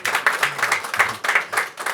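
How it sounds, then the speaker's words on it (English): An audience claps for a minister at a conference, producing a lively, continuous round of applause with rhythmic bursts of hand claps filling the room and no voices over it. "We are going to clap for the Minister."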